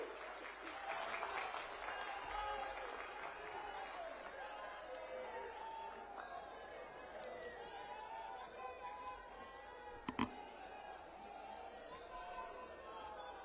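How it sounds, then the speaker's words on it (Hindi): A crowd at a political rally in Haryana applauds in a long, continuous wash of clapping and cheering, faint and distant, with chatter and an amplified voice blended in. "जोरदार तालियों के साथ स्वागत कीजिए"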